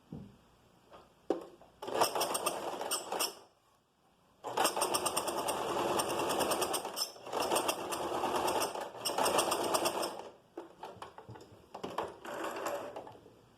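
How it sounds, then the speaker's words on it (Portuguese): Sewing machine running in long bursts as it stitches fabric about a centimetre from the edge, its busy mechanical whir stopping and starting with short pauses between runs. "vou costurar a 1 centímetro da borda"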